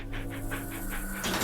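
Cartoon dogs at an animal shelter pant in a steady rhythmic huff over a low steady hum, with faint whimpers, close and continuous; no one talks.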